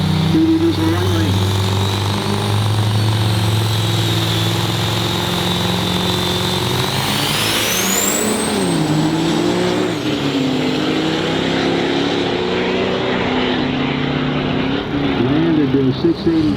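A Duramax diesel truck at a truck jam event, a drag-strip style setting, revs loud and near with shifting engine pitch and a rising whine, while an announcer talks over it.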